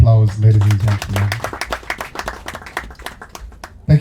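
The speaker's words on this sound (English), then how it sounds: "Another round of applause, ladies and gentlemen." An expo opening audience claps in a short, loose burst of hand applause while a voice talks over it at the start and again at the very end.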